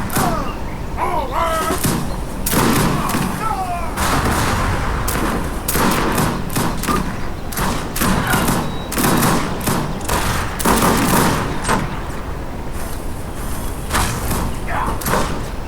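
Age of Empires 3 battle with grenadiers attacking redoubts and town centers: dense, rapid musket volleys and artillery blasts crack continuously over a loud game soundtrack, while a commentator talks throughout.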